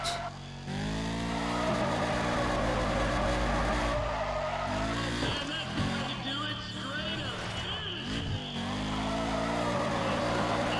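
A car drifts through a corner in Need for Speed ProStreet, its engine note rising and falling while tires squeal and skid, and a voice talks over the loud, continuous racing sound.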